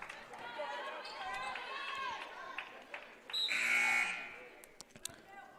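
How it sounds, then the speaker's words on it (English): A loud electronic buzzer blares for about a second amid crowd noise and squeaking shoes at a women's college basketball game in a gym, with a commentator talking over it. "Buzzer sounds"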